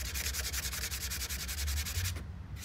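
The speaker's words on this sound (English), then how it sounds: "Just take your fine grit sanding block." A fine-grit sanding block scuffs a repaired softop surfboard in steady, rapid back-and-forth strokes, close and loud, with no voices.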